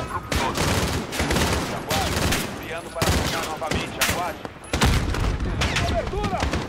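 Dense, continuous bursts of rapid gunfire crackle throughout, with shots overlapping in heavy volleys and brief lulls, and voices talking faintly underneath, in Call of Duty: WWII on realistic difficulty.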